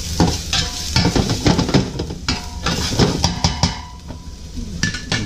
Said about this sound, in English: our garlic and our ginger. Quick mix around in the oil.